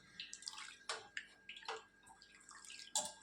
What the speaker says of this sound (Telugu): దీన్ని వాటర్ పోసి బాగా కడుక్కోవాలండి.